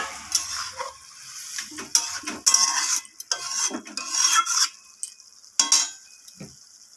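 Hot water goes into a vegetarian cabbage curry frying in a pan, setting off sharp bursts of sizzle and hiss in uneven spurts, mixed with scraping and stirring, with short quiet gaps between.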